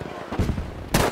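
Two loud, close gunshots in Battlefield V, a sharp crack followed half a second later by another, each with a short booming tail.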